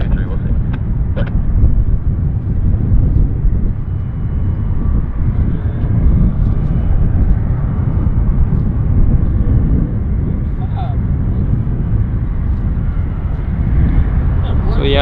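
A heavy Airbus A330 jet at Vancouver airport, heard as a constant loud low rumbling roar mixed with wind noise, while voices talk over it.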